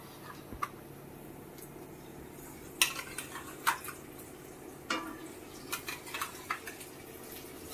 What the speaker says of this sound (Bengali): বলতে বলতে আমার পেঁয়াজটা একটু ভাজা হয়ে গেল, এবার আমি মশলাটা দিয়ে দেবো